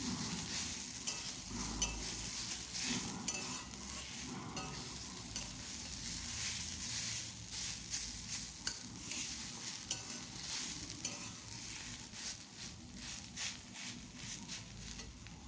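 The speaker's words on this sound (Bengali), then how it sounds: "হিংটা মিশিয়ে নিচ্ছি" Asafoetida (hing) stirred into hot oil while cooking beetroot chhechki, a steady low sizzle with soft scraping strokes of a spoon in the pan running throughout, fairly quiet and without talk.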